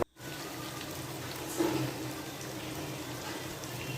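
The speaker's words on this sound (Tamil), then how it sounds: "தண்ணி ஊற்றி நல்லா அப்படி மிக்ஸ் பண்ணி விட்டுக்கோங்க" Water pouring steadily into a pan of spicy chicken kuzhambu, a continuous gushing splash with a brief louder surge partway through.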